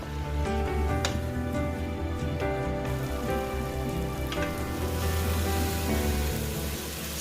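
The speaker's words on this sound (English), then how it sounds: "I will give it a good stir and leave it to fry for" Yam porridge base frying in a pot, a dense continuous crackling sizzle like rain on a surface, steady and close, with a few sharp clinks from stirring.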